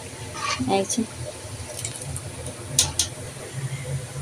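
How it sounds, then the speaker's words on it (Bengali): Mango sour dal comes to a boil in a pot, with a few soft bubbling plops and faint liquid burbles close by, fairly quiet overall. "এই তো বলক চলে আসছে, হয়ে গেছে রান্না।"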